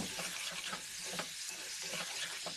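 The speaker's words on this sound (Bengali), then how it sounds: "কড়াইতে দুটো তেজপাতা দিয়ে দিয়েছি তেল গরম হয়ে যাচ্ছে" Two bay leaves fry in hot oil in a wok, giving a steady, faint hiss and crackle that runs throughout without pause.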